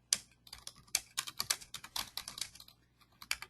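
Fingers tap a computer keyboard close by in irregular bursts of crisp clicks, quiet gaps between the runs of keystrokes, with no speech.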